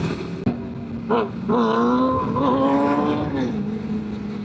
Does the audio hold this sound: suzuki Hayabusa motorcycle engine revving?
yes